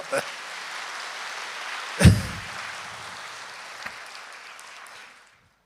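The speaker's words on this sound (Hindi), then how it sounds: "भले जोर से ताली बजाओ" Listeners at a Rajyogi spiritual class led by Mrityunjay Bhai applaud loudly, a rain-like patter of clapping with one sharp thump partway through, gradually thinning and fading out.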